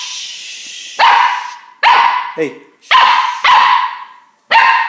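A puppy barks in short loud bursts indoors in an apartment, about five sharp yaps spaced unevenly, with a person's brief speech between them.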